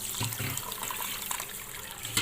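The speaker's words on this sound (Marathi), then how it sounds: "मी आता अगोदर हे तांदळात पाणी टाकून घेते" Water pours and splashes into a container of rice in a soft, continuous trickle, close by and fairly quiet.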